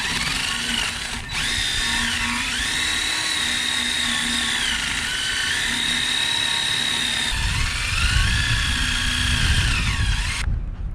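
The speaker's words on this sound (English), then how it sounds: "grab my wire wheel, and we're going to go ahead and put that on my drill and clean this shaft up" A power drill whines steadily, its pitch rising and falling as a wire wheel grinds against a blower motor shaft, with a rougher scraping burst near the end.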